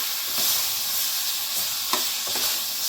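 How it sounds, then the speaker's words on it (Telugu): Mutton fat curry fries in a pan with a steady, close sizzle and hiss, broken by a few soft stirring scrapes. "చూడండి, బాగా వేగింది కదా"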